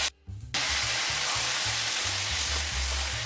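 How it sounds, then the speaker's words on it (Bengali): Taro stolons frying in a pan with poppy seed and coconut paste, a steady close sizzle with soft repeated scraping of stirring throughout, after a brief quiet start. "এবার আমি কিছুক্ষণ সময় ধরে এটাকে নেড়ে চেড়ে ভেজে নেব"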